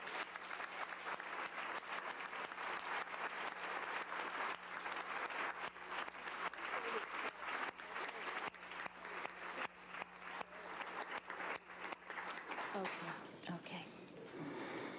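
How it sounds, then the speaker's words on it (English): Audience applause at a workplace awards and certificates ceremony honoring a Housing and Human Services group: dense, steady clapping from many hands fills the room for about thirteen seconds, then thins and fades out. "give them a round of applause"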